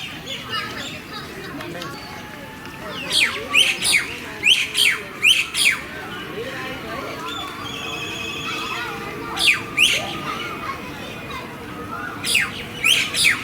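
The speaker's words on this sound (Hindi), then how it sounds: "चिड़ियों की चहचहाहट से आपको पता लग ही गया होगा कि ये जगह किसी सुंदर जंगल से कम नहीं" Birds chirping at the National Zoological Park in Delhi, repeated bright tweeting calls in short bursts over a steady outdoor background, moderately near.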